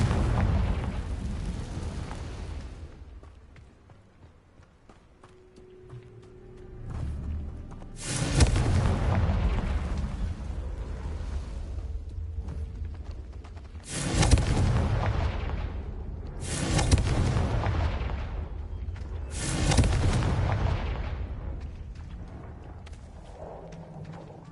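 Repeated Confringo blasting-spell explosions in Hogwarts Legacy, four or five loud booming bursts spaced a few seconds apart, each with a rumbling tail, alone with no talk.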